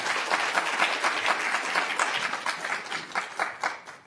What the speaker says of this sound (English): You're clapping for him, not for me